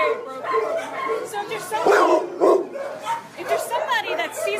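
Several big dogs bark and yip at an animal shelter in South LA, loud and close, over a steady background of kennel noise, while a person talks nearly throughout.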